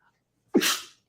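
A single sharp human sneeze bursts out after a moment of silence, close and loud, then trails off quickly.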